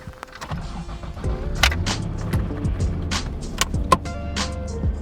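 A Toyota Supra MK3 moves on a test drive after a carrier bearing replacement, with a low engine and road hum, scattered clunks and rattles inside the car, and a whining tone partway through.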